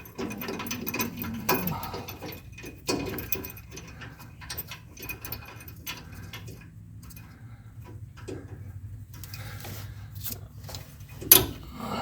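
Axle nut on a 2021 Ford Ranger FX4 suspension being tightened with a ratchet, quick bursts of clicking and metallic ratcheting separated by pauses and scattered clanks, close and moderately loud with no talk.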